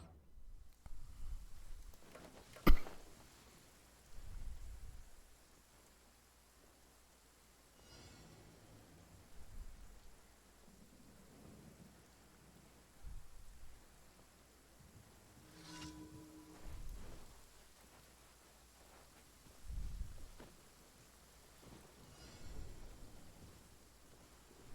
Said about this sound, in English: There's a thunderstorm everywhere.